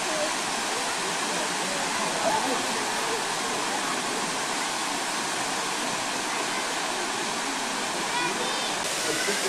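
Steady broadband rush of flowing water from a stream in South Africa, continuous and close, filling the scene with an even hiss with no breaks.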